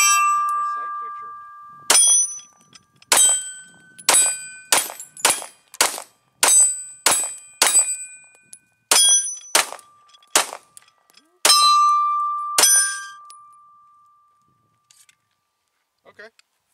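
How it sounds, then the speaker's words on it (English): FN 509 Edge pistol shots ringing off steel targets at an outdoor range, about a dozen sharp cracks each followed by a bright metallic clang, fired at an uneven pace with short pauses. "That's the very first shots out of that."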